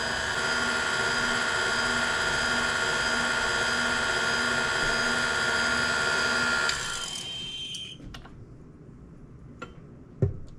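Electric hand mixer whirs steadily as a third of the flour is beaten into cake batter, then cuts off after about seven seconds, leaving quiet room sound with a couple of small knocks.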